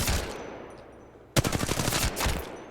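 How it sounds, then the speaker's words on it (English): Rapid video game gunfire, first a dense burst that fades, then a sharp fresh volley of automatic shots fired at a target, loud and close with no voices. "if we go here and we shoot the target"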